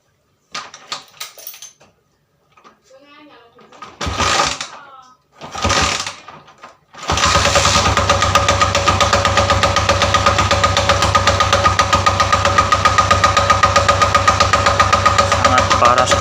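A Honda GL series motorcycle engine running with a loud, steady mechanical knocking from the left magneto cover, the rapid repetitive clatter going on continuously after a few short bursts and brief talk at the start.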